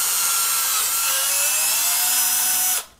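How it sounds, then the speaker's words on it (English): A power drill bores a hole through a plastic headphone casing, its steady high whine running loud and close for nearly three seconds before cutting off abruptly. "I'm just going to drill a hole with my drill."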